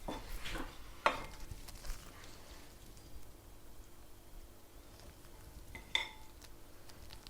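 A spoon serves agrodolce chicken and wild rice into dishes: a few sharp metallic clinks against crockery stand out over quiet scraping and a soft room background.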